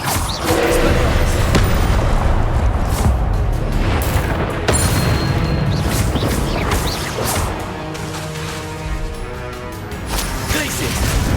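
Spell-casting blasts and explosions from the video game Hogwarts Legacy burst in a dense, rapid barrage of booms, crashes and thuds, with a voice calling out over the continuous game din.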